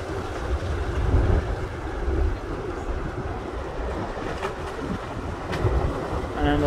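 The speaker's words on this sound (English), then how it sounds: "Here is the noise the volcano makes." Erupting Litlihrutur volcano crater in Iceland, a continuous low roar like machinery with wind buffeting the microphone, rumbling steadily at a distance with a few brief sharp cracks.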